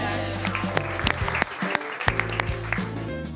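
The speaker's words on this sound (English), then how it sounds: "Let's hear it for the cast." An audience applauds an improv comedy cast, a steady wash of clapping with sharp individual claps standing out over a low musical bed, moderately loud and without speech.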